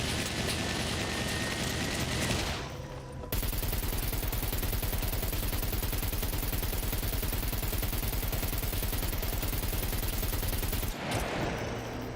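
Sustained automatic gunfire from the video game SCUM during a fight with a mech robot: a dense, loud rapid-fire burst lasting several seconds, bracketed by short breaks and noisy game ambience.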